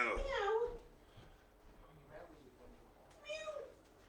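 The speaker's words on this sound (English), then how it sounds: "It sounds like a cat fight, do you?" A Scottish Fold cat meows loudly once, followed by quieter murmurs and a second, shorter meow a few seconds later, close by in a quiet room.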